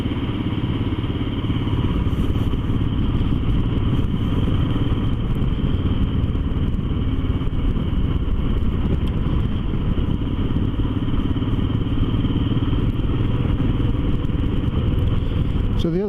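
A motorcycle fitted with a 16-tooth front sprocket cruises along a road, its engine droning loudly and continuously under heavy wind buffeting throughout.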